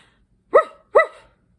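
A person imitates a dog with two short, sharp barks in quick succession, close and clear against silence.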